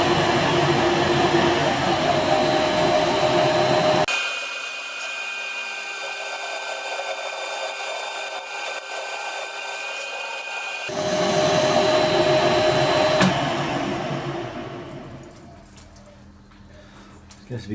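A powered lathe slotter runs in gear with a steady mechanical whine and hum that drops back for several seconds mid-run, then swells again before easing off near the end.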